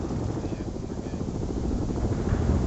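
An Apache gunship helicopter in the World in Conflict video game drones along in flight, a continuous, even rotor rumble that holds steady and grows slightly louder.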